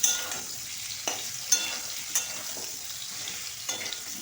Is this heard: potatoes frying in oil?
yes